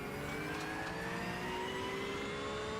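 Engine of a GT3 racing car in the iRacing sim, revving steadily and loudly with rising whining tones, continuous throughout with no talking.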